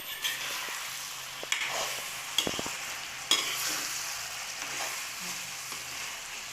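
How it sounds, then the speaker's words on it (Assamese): Local chicken meat is stirred and fried in a pan, giving a steady sizzle broken by several sharp spatula scrapes and clanks against the metal, with no voices. "মাংসখিনি নিসিজালৈকে মই লৰাই লৈছোঁ"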